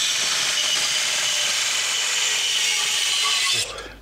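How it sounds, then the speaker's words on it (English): Metal plate being cut into squares with a power tool for Land Cruiser FJ45 body mount repair, a loud steady grinding whine lasting several seconds before stopping abruptly near the end. "I'll cut those squares out to sandwich in between there."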